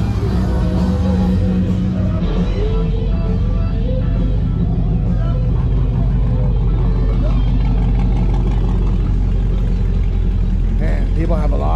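Car engines idling and revving at a car show in Temecula, California, a loud steady rumble with rising revs near the end, under people talking and crowd noise.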